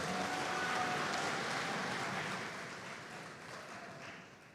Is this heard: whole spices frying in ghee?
no